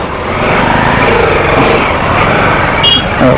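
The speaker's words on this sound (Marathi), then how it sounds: "त्यामुळे मी बाईक घेऊन निघालो आहे" A steady, loud motorcycle engine drone runs throughout, heard up close while riding, with wind rush and no pauses.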